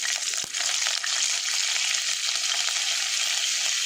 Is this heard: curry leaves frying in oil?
yes